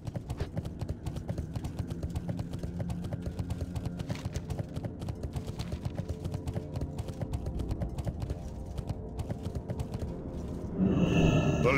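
Horse hooves clip-clopping at a fast steady rhythm in World of Warcraft Burning Crusade Classic, close and even throughout, with a brief burst of other game sound near the end.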